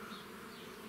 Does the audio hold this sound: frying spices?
no